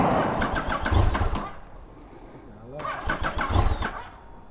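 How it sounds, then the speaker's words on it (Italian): A new motorcycle engine, with a standard mode and A and B maps, cranks and fires up twice in close succession, each start a loud low burst against a quieter idle, while people talk in Italian nearby. "Allora, questa è la moto. Accendiamo? Accendo?"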